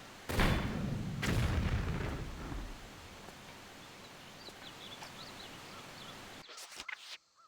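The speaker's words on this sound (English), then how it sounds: "Right, who else was shooting?" Gunfire in the video game Tomb Raider III: two loud broadband blasts with rumbling tails near the start, then a quieter ambient stretch with faint chirps and a few sharp clicks at the end.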